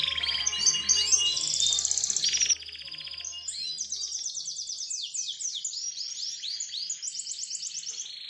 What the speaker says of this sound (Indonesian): Akhirnya, kelar juga deh ngemandiin burung Aye.